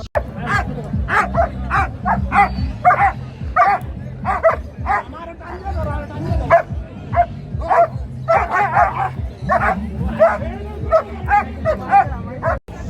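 Dogs barking and yipping in rapid, overlapping bursts as they fight nearby at a livestock exhibition, with human voices murmuring underneath.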